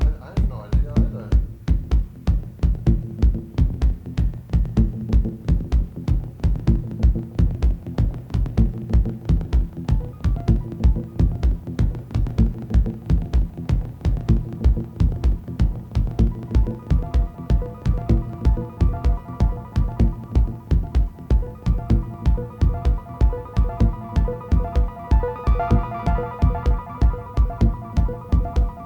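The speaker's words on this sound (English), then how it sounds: "This is another oscillator that I'm running with this little sequencer here." A modular synthesizer oscillator driven by a small sequencer pulses in a steady, fast throbbing rhythm, its repeating tones loud and close, with brighter upper notes creeping in near the end.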